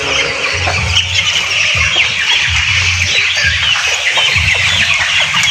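Broiler chickens on a farm cluck and squawk as a flock while feeding, a dense steady clamour with no voices over it.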